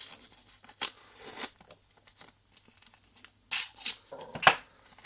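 Crinkly tearing and snipping of adhesive tape close up, cut for a Spiderman mask's eye lenses, a few sharp bursts separated by quiet pauses, with faint rustling in between.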